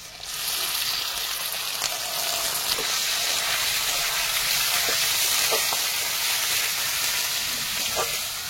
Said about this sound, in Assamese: কেৰাহীখন গৰম হৈ গ'ল এতিয়া ইয়াতে মই এয়া কাটি লোৱা পিঁয়াজ দি লওঁ জলকীয়া দি লৈছো এতিয়া মাংসখিনি দি লওঁ